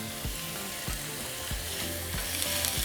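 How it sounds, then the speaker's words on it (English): Chopped tomatoes and minced garlic frying in a pan with onion and serrano for huevos rancheros, a steady soft hiss with a few low thumps recurring every half second or so, close but fairly quiet with no talking. "we're going to throw in our chopped tomatoes and minced garlic"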